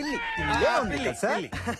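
A cat meows several times in quick succession behind a door in a film scene, close and fairly loud, with a few rising and falling cries.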